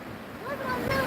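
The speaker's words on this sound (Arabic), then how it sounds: "ده يا جماعه زي ما انتم شايفين كده البحر" Winter sea waves wash in along a beach, a broad rushing swell that builds louder toward the end, with gusty wind buffeting the microphone and a voice briefly rising over the surf.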